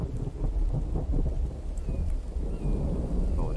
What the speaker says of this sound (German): Na gut, es regnet.